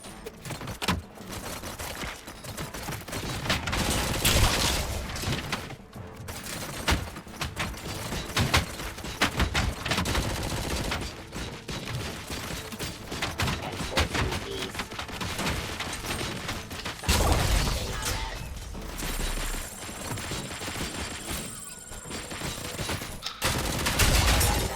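Heavy machine gun fire in a video game, with dense, loud bursts of rapid shots running almost without a break and a few short gaps between volleys.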